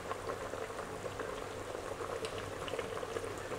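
Thai green curry with winter melon and tender chicken simmers in a pot, giving a steady, close, dense bubbling that continues without pause.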